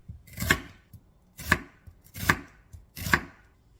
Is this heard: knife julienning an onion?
yes